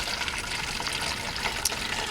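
Apple juice pours through a funnel into a fermenting container for hard cider, making a continuous soft gushing, trickling stream for about two seconds, fairly quiet and with no talk.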